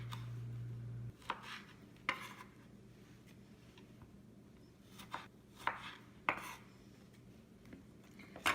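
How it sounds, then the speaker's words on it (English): A knife chops a small tomato on a board in a home kitchen, with about eight sharp, irregular cuts spaced roughly half a second to a second apart, close and fairly quiet, with no talking. "I've taken like a small tomato, so I'm just going to quickly chop."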